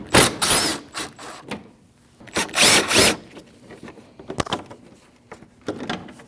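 A power tool backs out 8 mm bolts on a 2014-2023 Jeep Cherokee 2.4L during an idler pulley job, loud ratcheting bursts in several short runs separated by pauses and smaller clicks.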